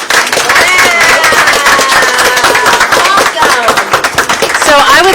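An audience at a town council meeting claps together, a dense, steady patter of many hands lasting several seconds, with cheerful voices mixed in.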